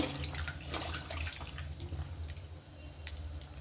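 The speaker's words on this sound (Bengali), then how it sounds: "এখানে জল নিয়ে নিয়েছি জলে আমি ধুয়ে নেব" Cabbage leaves are swished and washed by hand in a bowl of water, giving a steady close splashing and sloshing with soft drips, with no talking.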